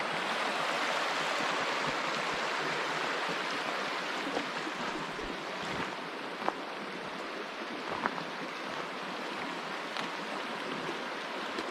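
Steady broadband rush of river water, heard while an ATV fords rivers in a glacier-carved valley near Denali, Alaska, constant and fairly loud, with a few brief splashes or knocks breaking through.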